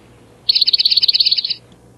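A single eastern towhee song rings out nearby, a brief lead-in note running straight into a fast, even trill of about a dozen notes, with nothing else around it.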